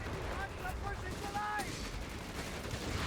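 Machine gun fire in the World War II strategy game Company of Heroes, a dense, steady rattle of automatic bursts mixed with other battle noise through the whole stretch, with brief tonal effects layered on top.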